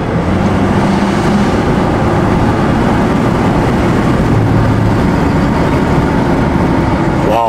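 A loud, dense engine roar fills a taxi's cabin, sustained and strained as the car pulls hard under kickdown, with rushing road noise underneath.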